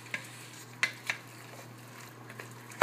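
A spoon stirs chicken pot pie filling in a pan over a low burner, with a few sharp scrapes and clinks against the metal spaced out over a quiet background hum.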